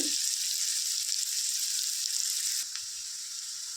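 Onions fry in a pan for a drumstick gojju, a dense steady sizzle that stays close and even throughout and softens slightly near the end.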